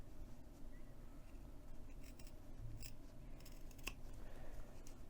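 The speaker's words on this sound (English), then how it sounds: "I'm just going to cut back a little more fabric" Fabric scissors snip back extra layers of fabric while a crossbody bag is sewn, a few quiet, crisp blade closures over a faint room hiss.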